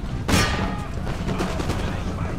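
Grenade blasts and flintlock musket fire in the Empire Total War game, with a sharp burst up front followed by scattered crackling shots and rumble in a busy battle mix.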